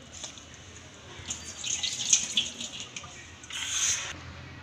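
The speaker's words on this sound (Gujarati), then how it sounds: "આપણે બટેકાને ધોઈ લઈશું" Potatoes being washed under a running kitchen tap in a sink, a steady soft trickle of water with two louder splashing bursts as the potatoes are rinsed, close and alone.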